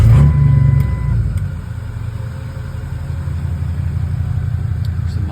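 A 2003 Ford F250 Super Duty with a 6.0L diesel fires up after glow plugs warm, a loud cranking burst settling within a second into a steady, close, low idle rumble.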